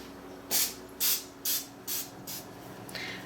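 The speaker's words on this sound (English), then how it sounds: "each one of these needs to get sprayed with just a little bit of nonstick cooking spray" Short bursts of nonstick cooking spray hiss onto small tartlet pans, about six quick sprays in a row at close range, each a bright sharp puff separated by brief pauses.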